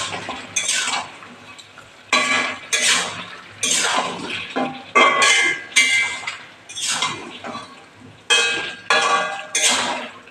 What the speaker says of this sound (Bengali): এবারে ভেজে রাখা ডালের বড়াগুলো দিয়ে দেবো, ভালো করে নাড়া দিয়ে দেবো।